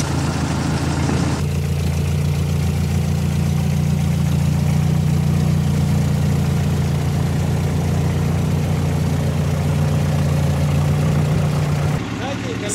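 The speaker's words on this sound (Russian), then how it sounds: "Вот вы слышите, как вторая машина работает." A Volvo 740 engine idles steadily for about ten seconds, a close, even low hum with a faint hiss above it, ending in a brief shift near the close.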